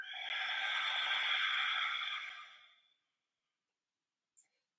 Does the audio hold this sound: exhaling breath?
yes